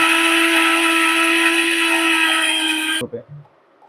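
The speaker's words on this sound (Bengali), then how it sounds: "ডালগুলো দিয়ে দিলাম জাস্ট টাচ করার সাথে সাথে গ্রাইন্ড শুরু হয়ে গেছে" An Inima Japan 1500 watt grinder pulverises lentils with a loud, high, steady whirring motor drone that runs for about three seconds and then cuts off abruptly, followed by a few faint clicks.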